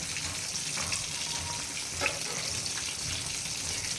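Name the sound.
pouring off water after steaming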